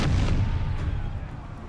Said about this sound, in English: Port cannons again. Heavy fire again.